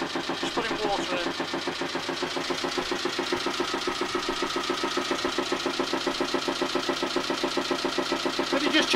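A Volvo 2002 two-cylinder diesel engine runs close by, a loud, steady chugging with even rapid firing pulses throughout, rising slightly in intensity toward the end.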